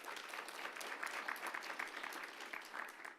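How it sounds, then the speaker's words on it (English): An audience at a school board meeting claps steadily for an award recipient honored for student nutrition, a moderate, even patter of many hands heard from a distance. "if you join me in giving Mary a round of applause"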